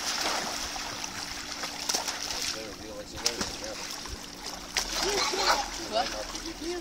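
Water splashes in a backyard swimming pool as a child attempts a back flip, with sloshing and splatter under noisy chatter and kids' voices throughout.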